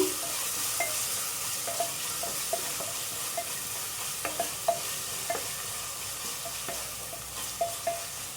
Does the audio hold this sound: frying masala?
yes